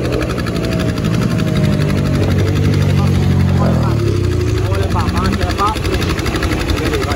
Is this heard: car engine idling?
yes